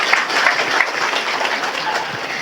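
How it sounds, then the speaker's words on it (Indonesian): An audience claps at a religious study gathering in Gambasan, Selopampang, Temanggung, giving a steady, fairly loud burst of applause that lasts throughout, with no talk over it. "tepuk tangan dhisik ora apa-apa"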